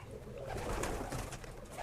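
Tippler pigeons coo softly inside a small six-foot loft, a low murmuring burr under steady background noise, faint and close.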